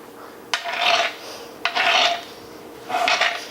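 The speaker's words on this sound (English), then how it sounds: "Now that I have a nice piece like this of orange peel with no pulp, I'm going to cut it into strips." A knife draws through orange peel in three separate strokes, each a short raspy scrape against a cutting board, heard close up in a quiet kitchen.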